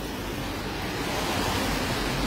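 Rain falls outdoors in a dense, steady hiss that stays constant and loud throughout, with no voices.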